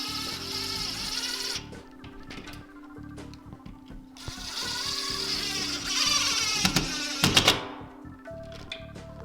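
A power drill drives long screws into a wall-mounted handrail bracket, giving steady whirring bursts with pauses and a louder stretch of spinning and knocking near the end, close by with no talk.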